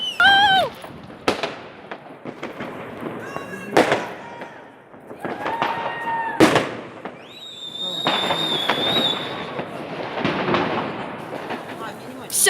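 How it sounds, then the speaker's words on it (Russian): New Year's Eve fireworks and firecrackers bursting outdoors: several loud sharp booms spaced a few seconds apart, with whistling, crackling rockets in between and people talking throughout. "там вообще офигенный салют"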